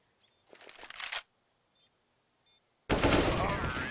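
AK rifle fire in CS:GO during a competitive ESEA match: a short burst of close, sharp shots, then after a pause a louder sustained spray of gunfire running to the end.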